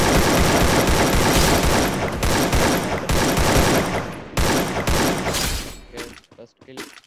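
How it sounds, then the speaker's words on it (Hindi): Loud, rapid bursts of automatic gunfire in the mobile shooter Free Fire crackle in dense volleys, thinning into sparse scattered shots at the end. "कहीं से फायरिंग की आवाज़ तो आ रही है, लेकिन कहाँ से आ रही है?"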